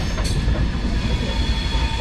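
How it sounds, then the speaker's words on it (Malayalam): An express train's powerful locomotive passes at Ambala Cantonment Junction in Haryana, a loud, steady rumble and roar of rolling stock with a brief bright burst near the start and no speech. "പവർഫുൾ ലോക്കയാണ് കേട്ടത്"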